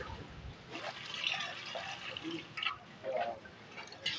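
Water-contaminated petrol drains out of an emptied fuel tank with soft trickling and dripping, a faint irregular liquid dribble with small splashes close by.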